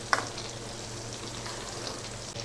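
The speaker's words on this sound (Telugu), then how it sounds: "ఈ మునక్కాయలను వేయించుకోవాలి" Drumstick (moringa) pieces fry in oil with a soft, even sizzle throughout, a brief sharp crackle near the start, fairly quiet and close.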